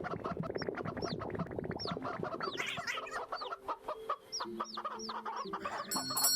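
Chickens cluck and squawk in the VRChat game, with many short, sharp calls overlapping in a busy, close chorus that runs steadily throughout.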